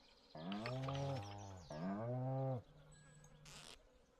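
Cow in the Stardew Valley farming game gives two long, drawn-out moos back to back, clear and close, followed by a short game chime; no talking.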